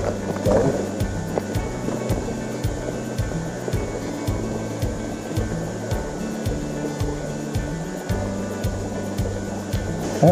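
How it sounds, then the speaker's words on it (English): Small waterfall at a campground off the Blue Ridge Parkway, a steady broadband rush of falling water with a faint repeating low thump underneath, no voices. "We made it to the waterfall."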